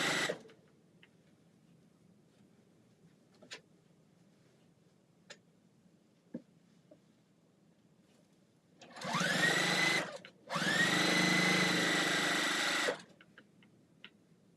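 A Juki sewing machine stitches binding onto a T-shirt quilt in two loud, steady whirring bursts of a few seconds each, separated by a brief pause, with quiet faint clicks before.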